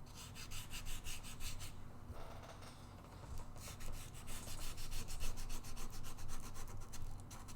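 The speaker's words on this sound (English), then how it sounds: "So I'm just doing like the little finesse sanding on the volute here." Hand sanding the volute of a guitar neck, smoothing out rasp marks in the wood: a steady, rhythmic scratchy rubbing that runs back and forth close up, pausing briefly around the midpoint before resuming.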